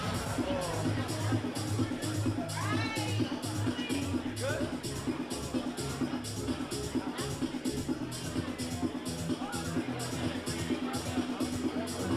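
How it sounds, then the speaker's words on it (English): Crowd of about 250 to 300 people at a boxing club, a steady hubbub of babble and murmuring filling an indoor hall, with a voice speaking over the din. "the crowd in here has reached the absolute peak"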